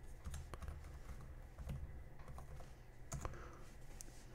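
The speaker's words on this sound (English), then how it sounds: "Typing doesn't go too well today." Keys clatter on a computer keyboard in quick, uneven bursts of soft clicks, close and fairly quiet over a steady low hum, with no voices.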